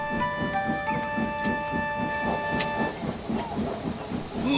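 Steam locomotive in the Trainz railway simulator hisses steadily with rhythmic chuffing underneath, tonal whistle-like lines overhead, and a louder burst of steam venting from midway on.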